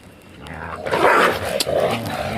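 Stray dogs crowd around a female dog in heat on a street in Kochi, with a burst of rough, agitated barking and snarling rising mid-clip amid general outdoor noise.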